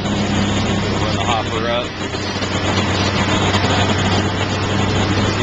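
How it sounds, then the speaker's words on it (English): A 2010 Masco 1600 street sweeper engine idles with a constant low hum throughout, while someone talks briefly over it. "The engine's idling now."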